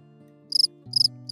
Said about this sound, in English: Have you ever heard crickets singing at night?